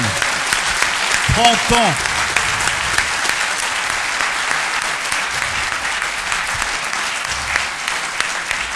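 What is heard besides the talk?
audience applauding loudly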